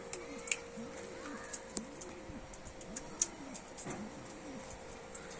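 Pigeons coo softly several times in repeated rising-falling phrases, with faint clicks and taps around them and a steady hum underneath.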